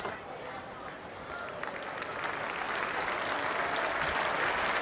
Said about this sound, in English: More applause here